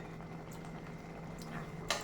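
Soft, steady bubbling of water heating on a stove, a continuous low simmer with faint occasional pops, alone without any talking.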